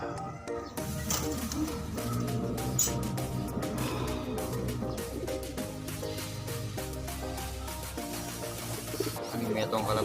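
Pigeons coo in low, repeated calls under a busy, cluttered background with frequent clicks and knocks.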